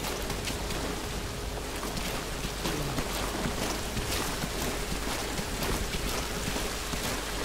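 Steady, even rain in the Metal Gear Solid V: Ground Zeroes video game, a continuous wash of falling water with no breaks, no talk and a constant level throughout.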